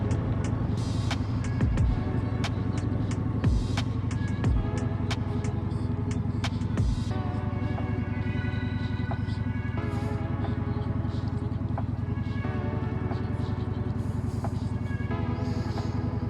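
Wind noise on a moving motorcycle, picked up by a DJI Mic Mini: a heavy, constant low rumble with gusty buffeting and faint traffic sounds throughout.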